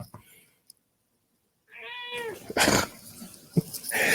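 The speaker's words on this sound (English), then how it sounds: "Now he's gonna sit here and meow the whole time we're in practice instead of joining me." A house cat gives one drawn-out, wavering meow nearby after a quiet pause, and a person speaks over it and after it.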